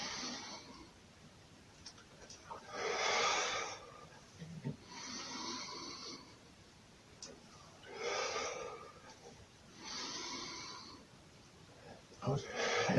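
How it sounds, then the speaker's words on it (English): Deep breathing during a leg injury prevention exercise: about five long, hissing breaths close to the listener, spaced a second or two apart with quieter gaps between them. "Keep breathing in."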